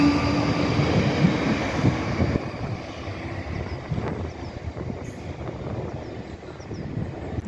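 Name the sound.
train passing at London station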